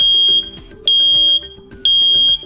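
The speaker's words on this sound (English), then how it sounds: "When an alarm is triggered, you'll hear a loud 85 decibel T3 pattern chirp to alert you." A First Alert battery-operated smoke alarm sounds its loud 85-decibel T3 pattern: three sharp, piercing high beeps, each about half a second long, separated by brief gaps, close and alone.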